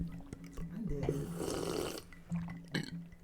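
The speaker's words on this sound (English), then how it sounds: "I didn't mean to burp in the mic." A man's burp, close to the microphone on a podcast, a single gurgling belch lasting about a second amid the room's background, with a short vocal sound just after.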